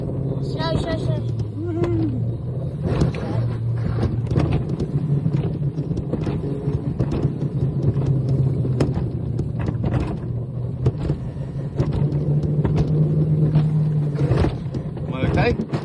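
A Zip World Forest Coaster car at Betws-y-Coed rumbles steadily along its track, a continuous low drone with rattles and clatter, while riders chat and call out over it throughout.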